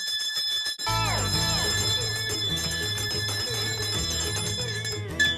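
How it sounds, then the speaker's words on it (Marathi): A small bell kept in a prop box for ringing before a play jangles continuously and loudly for several seconds, a dense, bright, rapid ringing close by. "ही माझ्या प्रॉपर्टीच्या पेटीतली नाटकाच्या आधी वाजवायची घंटा आहे"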